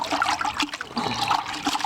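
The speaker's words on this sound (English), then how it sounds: "keep turning the sponge around and finding a cleaner part of the sponge and rinse it a lot" A sponge is rinsed and squeezed in a bucket of water while patching loose stucco, giving a steady close sloshing and trickling that runs throughout with no talk.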